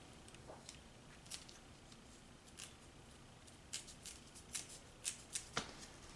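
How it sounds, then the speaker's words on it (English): Scissors snip through the armor sheathing of a cable in a series of faint, sharp cuts that come more often and grow a little louder toward the end, over a quiet background. "And then I just cut off the armor with a pair of scissors."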